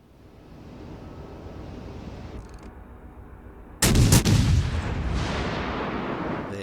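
One loud naval gun blast booms against steady wind and sea ambience, followed by a long rumbling tail, in World of Warships: Legends ship combat.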